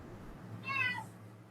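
A house cat gives one short, clear meow at moderate volume, rising and falling over about half a second against a faint room hum, with no talking.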